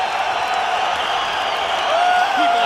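Arena crowd at a Tank Abbott versus Kimo fight, a dense steady roar of noise filling the whole stretch, with faint whistles rising near the end.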